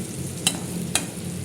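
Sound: dried brinjal and turkey berry frying in oil

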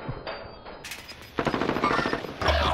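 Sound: Owen gun firing in a video game

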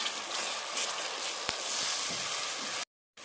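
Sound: tomato paste added to frying ginger, garlic, green chillies

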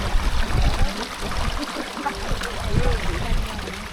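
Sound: small stream flowing

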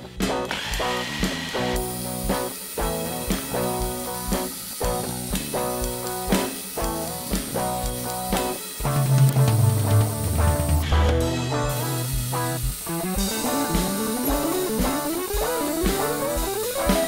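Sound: drill press drilling

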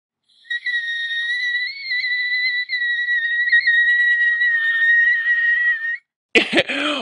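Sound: singing in the whistle register

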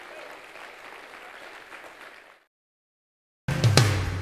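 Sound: congregation hand clapping in praise

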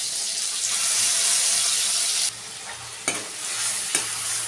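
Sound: masala frying and being stirred for fish curry

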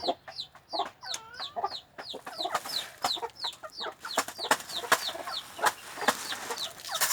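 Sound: chickens clucking

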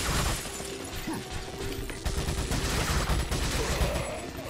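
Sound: gunfire from Resident Evil 4 video game

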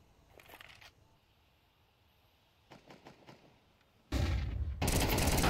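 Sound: MP9 gunfire in Counter-Strike video game

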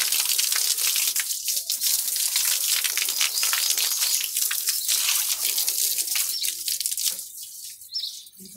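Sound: sweeping water with a broom

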